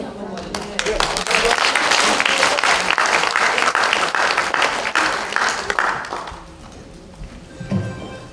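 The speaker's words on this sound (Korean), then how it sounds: "다시 한번 큰 박수 부탁드립니다." Audience in a National Assembly conference hall applauding after a special lecture at a world Korean women's conference, a dense burst of clapping that swells, holds, then thins out and fades, with a few voices underneath.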